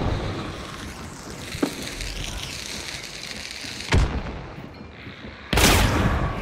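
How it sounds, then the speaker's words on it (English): Gunfire in the video game Hunt: Showdown, with a few sharp booming shots over a rumbling ambient background, including a loud, sustained blast near the end. "shotgun"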